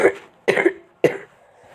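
Three short, raspy coughs in quick succession, close and fairly loud, with brief quiet gaps between them.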